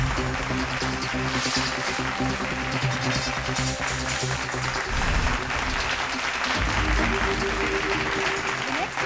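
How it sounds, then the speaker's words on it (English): Audience claps at a jewellery awards ceremony while loud music plays, the applause a continuous wash largely buried under the sustained musical tones. "a big round of applause"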